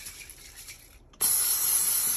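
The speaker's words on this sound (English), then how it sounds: "Spray it inside with olive oil," Olive oil sprayed inside an air fryer: a soft hiss, a brief pause, then a loud, steady, close spray hiss.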